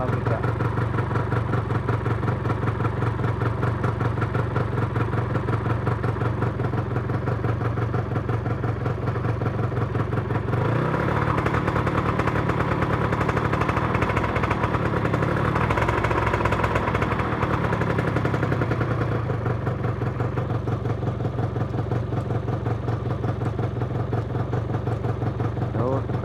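A Yamaha NMAX scooter engine idles steadily with a dense, even mechanical chug, loud and close throughout, while someone talks over it.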